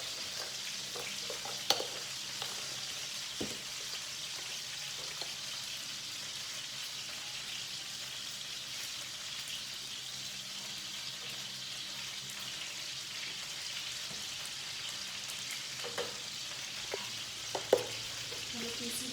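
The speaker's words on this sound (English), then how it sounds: "Let it simmer a little longer." Chicken in mushroom sauce simmering in a pan gives off a steady, soft sizzle and bubbling hiss, with a few faint clinks and taps from stirring scattered through.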